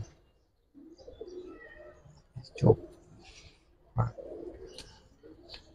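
Giribaz pigeons coo softly at close range, with a few low, throaty calls and two sharper bursts, while someone speaks briefly in between.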